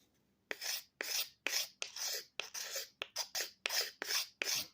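A hollow-ground whittling knife scrapes across wood in about a dozen firm, rasping strokes, each a short burst separated by brief pauses, close and clear with no talking.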